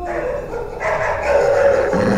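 Dogs barking as a sound effect in a werewolf tale: a dense, continuous stretch of overlapping barks and yips, loud and close, that grows busier toward the end, with no talk.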